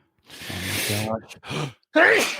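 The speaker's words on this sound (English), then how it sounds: "We did it. We sneezed together." Two people sneeze almost together in a close indoor setting, sharp bursty exhalations followed by a short pause and another loud sneeze-like burst, with a voice exclaiming briefly afterward.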